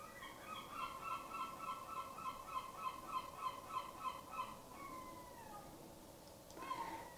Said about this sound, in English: Sorry about the seagulls.